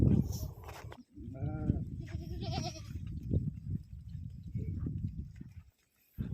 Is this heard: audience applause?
no